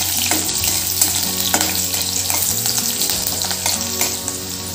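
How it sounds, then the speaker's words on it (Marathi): Green chillies fry in hot oil with a loud, steady sizzle, and occasional stirring clatters come through close by. "मिरची छान तेलात परतून घेऊ आपण"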